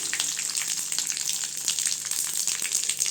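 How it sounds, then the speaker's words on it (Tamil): Mustard seeds, curry leaves and dried chillies sizzling hard in hot oil, a loud close crackling fry with rapid popping spatters throughout and no speech. "கடுகு சேர்த்துக்கலாங்க கருவேப்பிலை காஞ்ச மிளகாய் சேர்த்துக்கலாம்"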